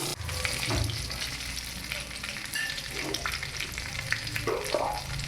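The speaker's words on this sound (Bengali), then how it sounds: "এভাবে ভেজে দিচ্ছি ভেজে উঠিয়ে দিচ্ছি" Prawns fry in hot oil, crackling and sizzling steadily at close range while being stirred now and then.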